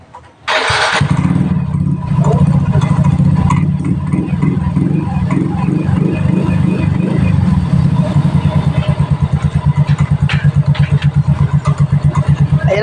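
A Yamaha Mio Soul i scooter that had trouble starting fires up abruptly after a brief quiet moment, then idles loud and close with a steady throbbing putter that turns to a choppier pulse near the end.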